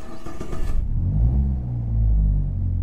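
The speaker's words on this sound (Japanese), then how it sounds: "もう一回押すとエンジンがかかる" Car engine starting up in Assetto Corsa, a brief cranking burst followed by a low, steady idle rumble that settles in close and fairly loud, with no voices.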